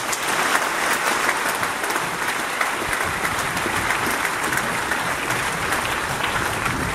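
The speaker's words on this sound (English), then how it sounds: "Let us give another big round of applause." A crowd at the FijiFirst victory speech of Frank Bainimarama breaks into sustained applause, dense and even clapping from many hands that holds at a steady level throughout, with no talk.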